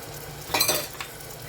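Ginger garlic paste and onion paste frying in a pan for mutton khichda give a soft sizzle, with a brief clink of a utensil stirring near the middle, close and fairly quiet.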